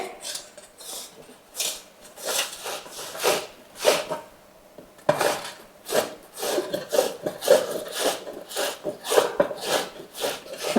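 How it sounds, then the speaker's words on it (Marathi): Raw green mango being grated by hand, a rhythmic series of close, scratchy rasping strokes with short pauses between bursts. "आणि आता आपल्याला ही कैरी किसून घ्यायची आहे"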